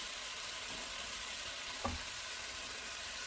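One sliced green pepper fries in a pan with a steady low sizzle and a single brief knock partway through.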